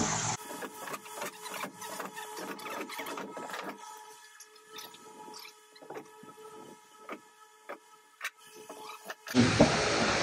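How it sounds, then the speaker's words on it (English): A power screwdriver drives screws into a bedroom project, whirring in repeated short bursts with ticking clicks, moderately close, ending in a louder burst. "So let me finish screwing these all in."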